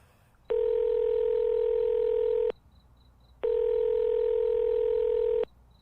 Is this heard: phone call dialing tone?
yes